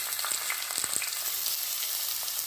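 Onion, green chilies and curry leaves frying in hot oil, a soft, steady sizzle with faint crackles throughout.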